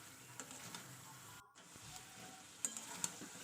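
Spicy chicken kosha stir-fries over low heat in a pan, a faint soft sizzle with a few light clicks and taps of the spatula against the metal.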